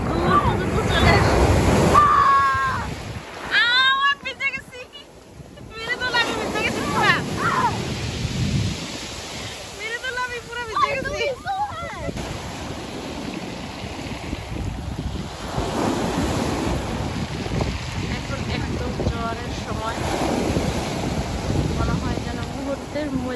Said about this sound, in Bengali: এত বড় ঢেউ, দূর পর্যন্ত চলে আসে